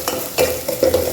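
Chopped onion fries in a hot pan while a spoon stirs it, giving a few loud scraping strokes over a steady sizzle, close and alone with no talking.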